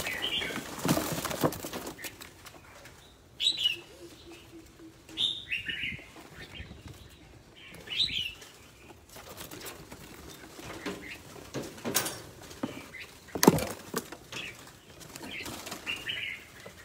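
Birds flap and flutter their wings in scattered bursts, with scrabbling patter and a few short chirps, close by at moderate loudness with pauses between.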